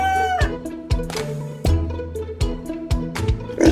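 A rooster's crowing and clucking sound against other short percussive hits, clear and fairly close, with no speech.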